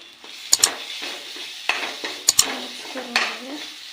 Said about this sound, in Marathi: मिक्स करून घेऊया। थोडंसं हळद टाकून घेऊया,